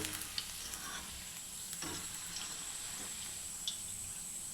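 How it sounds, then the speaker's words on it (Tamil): Okra snacks deep-frying in oil while stirred: a faint, continuous crackling sizzle with occasional light utensil touches, steady and fairly distant. "நல்லா இது மாதிரி கிளறி விட்டுக்கிட்டே இருங்க, அப்போ தான் ஈவனாக வேகும்"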